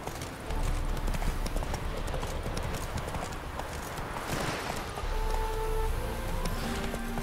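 Roach the horse galloping in The Witcher 3, a steady rapid drumming of hooves across the whole stretch, near and fairly loud over a faint background, no talking.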